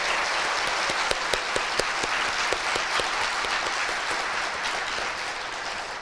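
A church congregation at an opening worship service gives a sustained round of encouraging applause, dense and even throughout, with a few sharper individual claps standing out near the front.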